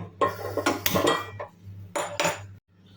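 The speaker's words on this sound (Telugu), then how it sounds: "పెన్నం పెట్టుకోవాలి" A metal pan set down onto a gas stove, a few sharp clanks and scrapes close by, with a quiet steady hum of the burner underneath.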